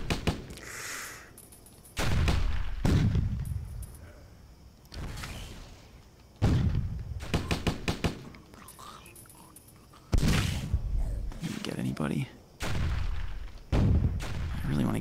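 Booming cannon blasts and gunfire from the video game Stubbs the Zombie, with a tank cannon firing in several loud, heavy bursts spread unevenly across the stretch.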